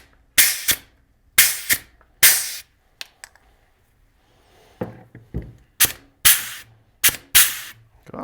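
A hand grease gun being pumped in a shop to force out trapped air and grease gives sharp, loud spurting bursts, often in quick pairs, separated by near-silence with a couple of faint clicks.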